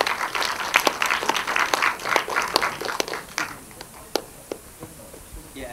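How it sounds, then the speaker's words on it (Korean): An audience at a Cuban film festival screening applauds with scattered, moderately loud clapping that thins out over a few seconds into a handful of isolated claps. "큰 박수를 맞이해 주시기 바랍니다."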